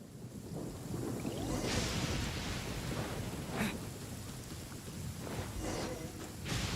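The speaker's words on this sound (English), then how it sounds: "Uh-oh! Lightning storm!" A lightning storm in the video game Genshin Impact: low rolling thunder rumbles under a steady wash of rain and wind, with a few louder crackling swells breaking through.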